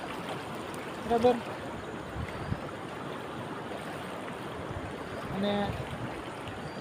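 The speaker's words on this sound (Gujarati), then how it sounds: "અત્યારે પાણી હાલ્યું જાય છે" Knee-deep water of the Dhatardi river rushes steadily past someone wading across it, a continuous close wash with a few splashes, while someone speaks briefly.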